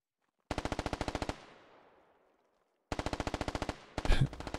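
Automatic gunfire from the Squad video game sounds as two sharp bursts of rapid, evenly spaced shots with a fading echo between them, suppressing a western hill.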